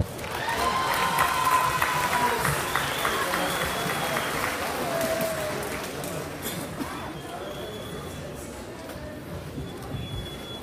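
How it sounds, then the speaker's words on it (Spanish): Loud crowd applause at an outdoor festival concert in Teoloyucan, a dense wash of clapping and cheering that stays steady then eases slightly, with a few faint whistles and some voices mixed in. "Señoras y señores, fuerte el aplauso, que se escuche fuerte."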